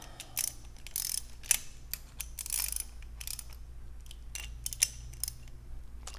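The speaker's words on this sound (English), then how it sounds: "Torque the bolts down." Bolts are torqued down on a Model 461-57S gas regulator during a rebuild, giving a series of sharp metallic ratchet clicks and clacks in irregular bursts, close and fairly quiet.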